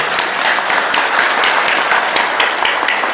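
A crowd applauds in a dense, continuous wash of clapping for a few seconds, loud and close with no pauses or voices standing out.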